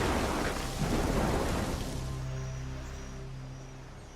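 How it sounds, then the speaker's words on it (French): Stormy rain and rumbling thunder in a cartoon, a loud dense roar that eases into a steadier wash of rain beneath a low tonal hum, with no voices. "la tempête va nous assommer, nous broyer, nous tremper jusqu'aux os"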